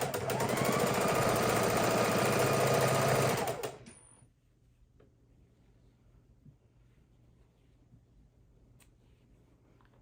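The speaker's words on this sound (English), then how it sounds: "we're going to chain stitch these blocks together" A sewing machine chain stitches quilt blocks together for a Halloween quilt, running in a loud, rapid mechanical rattle for under four seconds before stopping abruptly, leaving quiet room tone with faint small clicks.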